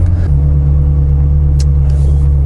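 A loud, steady low Ferrari engine rumble heard from inside the car in a tunnel with the window down, droning continuously with a brief faint click midway.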